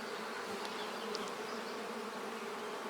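Honeybees buzzing during a hive inspection for brood disease, a close, steady, even hum with no talking.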